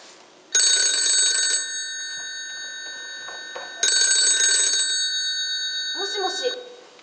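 A telephone rings in a stage play, two loud electronic trill bursts separated by a pause, followed by a person speaking.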